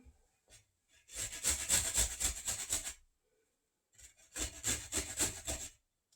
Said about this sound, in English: So I'm going to get just a simple cheese grater.